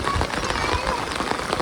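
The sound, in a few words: heavy rain falling outside a village house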